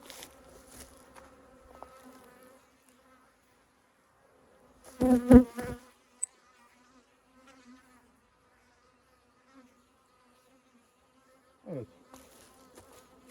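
Honeybees buzz around an open hive during colony inspection, a mostly faint hum with a brief louder burst of wingbeats as bees pass near, plus scattered light handling sounds and no talk.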